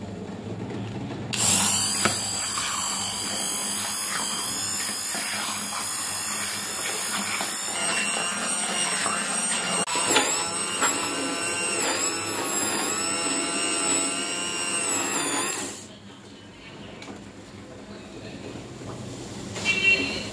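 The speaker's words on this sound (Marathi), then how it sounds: "आणि चमच्यानी रवीनी किंवा हँड मिक्सीने असं घोटून घ्यायचं आहे" A hand mixer whirs loudly and steadily while blending spinach curry thickened with chickpea flour, a high motor whine running for about fourteen seconds before cutting off into quieter kitchen background.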